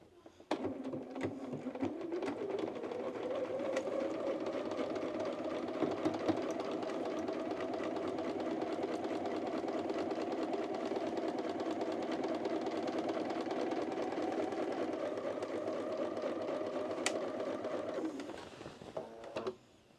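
A sewing machine runs steadily, stitching along a zipper with a continuous mechanical whir that holds for most of the stretch before stopping.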